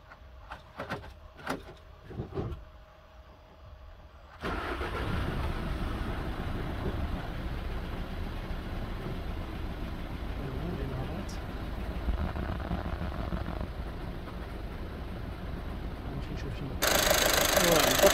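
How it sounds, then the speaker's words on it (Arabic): A VW 1.6 TDI diesel engine, just fitted with a new EGR valve, cranks and catches, then settles into a steady, fairly loud idle; a few clicks come before the start and the engine note grows louder near the end. "دابا نديماريو الطوموبيل."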